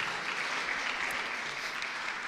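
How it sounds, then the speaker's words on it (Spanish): A church congregation claps together during a sermon, a dense, even wash of hand claps that holds steady throughout with no talking over it. "Démosle un aplauso a Dios por la vida de las mujeres que están aquí presentes"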